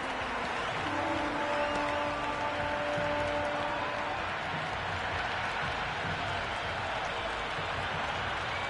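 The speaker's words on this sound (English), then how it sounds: "The crowd are really getting quite raucous." A dense, steady cricket crowd roar in the PS5 video game Cricket 26 fills the whole stretch, loud and continuous, with faint tonal notes drifting through early on.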